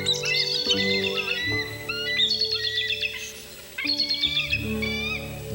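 Bald eagles calling along a river canyon in an Alaskan winter, with bursts of high, chirping and twittering calls in several waves over a steady musical backing.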